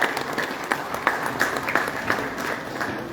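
Audience applause at an international peace award function in India, a steady wash of many hands clapping with a few sharper claps standing out, fairly loud throughout.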